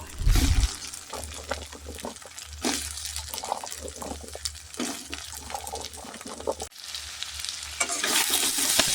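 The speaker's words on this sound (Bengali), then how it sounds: "অন্যদিকে আমি 3টি আলু কুচি করে রেখেছিলাম, সেটিকে আমি তেলের মধ্যে ভালো করে ভেজে নেব।" Three chopped potatoes hit hot oil in a pan while cooking ghugni, a steady close sizzle and crackle with stirring scrapes, rising into a louder burst of frying near the end.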